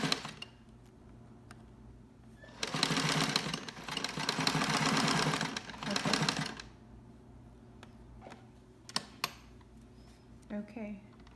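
A sewing machine stitches fabric for a face mask in a close, busy burst of rapid mechanical whirring lasting a few seconds, then stops, followed by scattered clicks and handling noises.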